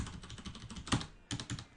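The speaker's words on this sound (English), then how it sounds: "So if I'm typing like this" Rapid clicking of keys on a computer keyboard, steady typing with a couple of louder keystrokes, close by and without any talking.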